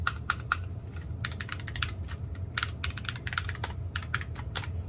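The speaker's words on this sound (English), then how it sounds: "clicking keyboard" Fingers type on a RisoPhy ultra-slim TKL wired mechanical keyboard with linear switches, a quick, irregular run of soft key clacks at close range over faint room hum, with no voices.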